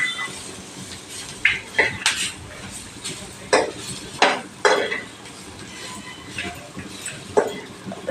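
Repeated scraping and stirring of a spatula in a dry pan as grated coconut dry-roasts, irregular strokes over a soft crackle, close and fairly loud.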